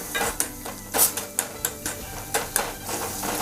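Onions and green chillies being roasted in a pan over medium heat, a series of sharp metallic spatula clinks and scrapes against the pan in an irregular rhythm, close and clear.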